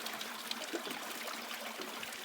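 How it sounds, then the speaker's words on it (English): A small, steady trickle of water running into a 200-litre water bladder at a remote anchorage, faint and continuous without talk. "For a little trickle of water like that."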